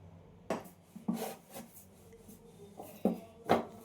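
Dough for sweet shankarpali being rolled thick with a rolling pin on a board, giving several separate knocks and rubbing scrapes spaced irregularly, close and fairly quiet.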